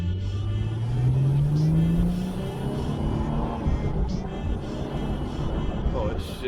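A Ford Mustang drives past with a rising engine note that climbs through the gears, a whirring, moderately loud pull mixed with road and wind noise.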